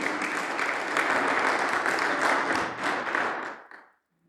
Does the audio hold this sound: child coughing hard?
no